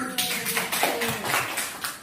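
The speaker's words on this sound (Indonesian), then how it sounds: "terima kasih tepuk tangan" Brief round of clapping from an audience at a teachers' session after a participant's question, a few seconds of close, overlapping hand claps.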